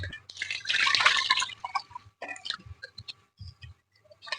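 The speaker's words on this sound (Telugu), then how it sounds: "చింతపండు అయితే నానబెట్టేస్తున్నానండి." Water is poured over tamarind in a home kitchen to soak it for a fish tamarind curry. A splashing pour lasts about a second, followed by scattered drips and small clinks close by, with no talk.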